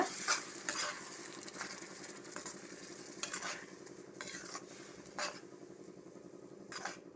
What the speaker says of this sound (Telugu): ఒకసారి ఇలా కలిపేసుకోవాలి పాలక్ పేస్ట్ యాడ్ చేసుకున్నాక